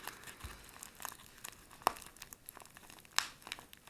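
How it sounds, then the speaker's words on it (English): Packaging paper crumpled and crinkled while unboxing a parcel of wheat cent coin rolls from eBay, with scattered soft rustles and a couple of sharper crackles, close and fairly quiet, no talking. "I got some paper in there for packaging."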